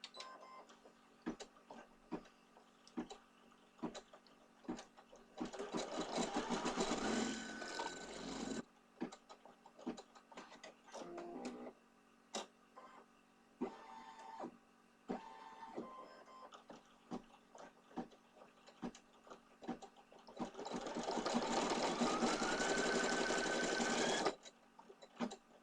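Embroidery machine satin stitching around a hat brim, fast mechanical clattering that runs in two long loud bursts separated by quieter ticking and pauses.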